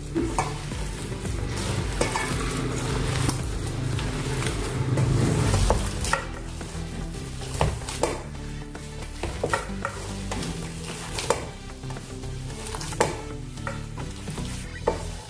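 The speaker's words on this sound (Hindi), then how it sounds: "हाथ से अच्छे से मिक्स कर लेंगे" Leftover rice with spices and a pinch of asafoetida being mixed by hand in a bowl, a dense, continuous squelching and rustling that fades slightly after a few seconds into softer, intermittent mixing sounds with occasional clicks.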